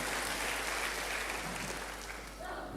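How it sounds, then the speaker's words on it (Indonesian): A church congregation clapping for God during a worship service, dense sustained applause from many hands filling the room for the whole stretch, fading slightly toward the end. "Berikan tepuk tangan bagi Tuhan, haleluya."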